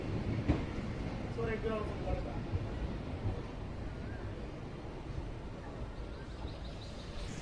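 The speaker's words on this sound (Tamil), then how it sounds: "இப்போ அந்த பழனி ட்ரெயின் கிளம்பினோடனே இந்த ட்ரெயினை கொண்டு போய் அந்த 6th பிளாட்ஃபார்மில் நிறுத்துவாங்க" A passenger train rolls slowly into platform 6 at Madurai Junction on the Madurai–Theni line, with a steady low rumble, a brief squeal early on and a constant wash of station noise throughout.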